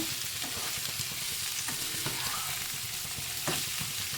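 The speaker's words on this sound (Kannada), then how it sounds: "ಎಲ್ಲ ನೀಟಾಗಿ ಬಾಡಬೇಕು ಚೆನ್ನಾಗಿ ಆಯಿಲಲ್ಲಿ ಫ್ರೈ ಆಗಬೇಕಾಗತ್ತೆ" Vegetables for an Andhra-style radish pachadi fry in hot oil, a steady dense sizzle running throughout with soft clicks of stirring every second or so, close and unaccompanied by speech.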